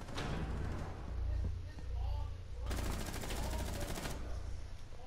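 Rapid automatic gunfire in Rainbow Six Siege, shot through a wall at an enemy Rook who has left the objective. One dense, sustained burst rattles loudly over a low rumbling game background, while a voice talks over it.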